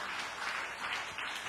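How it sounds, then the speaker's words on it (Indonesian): Sustained applause from a church congregation during a sermon, a dense steady wash of many hands clapping together at moderate volume with no talk over it. "tepuk tangan yang meriah"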